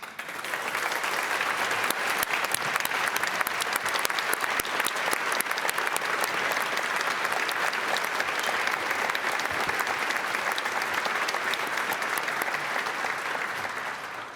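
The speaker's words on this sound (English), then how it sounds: "give you a round of applause for your work" Sustained applause from a large crowd at the 2026 Maryland State of the State Address fills the space, dense clapping holding steady for several seconds before tapering slightly at the end.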